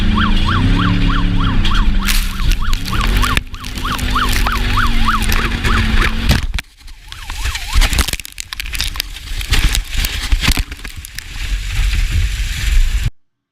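A police car siren wails loudly in a rapid rising and falling cycle, then cuts out partway through, leaving rough road and traffic noise.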